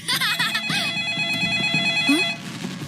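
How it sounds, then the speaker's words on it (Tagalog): Telephone ringing at New Year celebrations, bright repeated trilling bell tones loud and near for a couple of seconds, with voices talking and brief noises around it. "May tumatawag sa telepono?"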